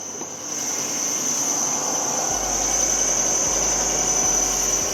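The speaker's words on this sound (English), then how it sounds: "But look how loud it's revving. It's revving super loud." A car engine revs, roaring loudly and steadily with a sharp high whine on top, a constant running drone without pauses or speech; the engine misbehaves more in cold weather.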